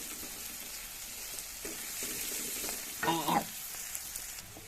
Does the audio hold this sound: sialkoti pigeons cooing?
no